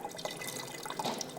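Water poured into a cooking pot of lentils, a short splashing, gurgling pour with light dripping, close and fairly loud with no talking.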